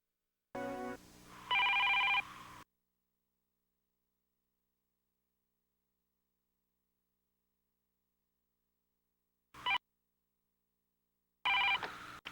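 A telephone rings in short bursts, first a loud electronic ring, then a brief chirp and another ring after long silences, alone with no voices.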